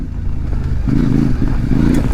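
A CFMOTO MT450 motorcycle riding off-road over rocks, its engine a loud, close, steady drone that rises in throttle partway through, with clatter from the stony ground beneath.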